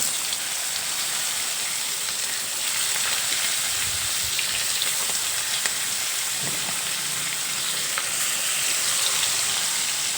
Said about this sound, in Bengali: এখন এই তেলের মধ্যেই এক এক করে ভাজার জন্য মাছের পিসগুলো দিয়ে দেব